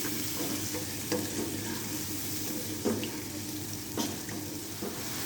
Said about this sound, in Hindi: चार टेबलस्पून हम इसमें पानी ऐड करेंगे क्योंकि प्याज जो है वो हमारे अच्छी तरह से मिक्स हो जाए